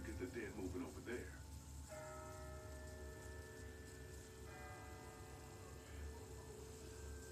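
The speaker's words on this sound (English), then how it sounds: "It's not the same bell as before. This one's further off." A distant bell rings in the video game The Walking Dead, faint sustained tones fading in the background over low hum, with a brief rustle at the start.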